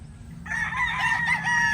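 A stag rooster gives a single clear crow close to the microphone, a drawn-out cock-a-doodle-doo that lasts about a second over a quiet background.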